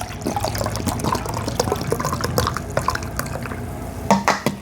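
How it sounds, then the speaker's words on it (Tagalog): Coke is poured from a bottle into a container: a continuous close splashing and fizzing stream with small drips and clinks, loudest near the end. "Meron akong bote ng Coke dito at ibubuhos natin yung laman ng Coke na to"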